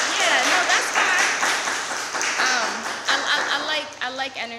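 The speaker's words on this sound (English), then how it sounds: "Y'all can clap and stuff, it's okay." An audience at a poetry reading breaks into sustained clapping and applause after the first poem, loud and close, with some voices and cheers mixed in as it tapers off.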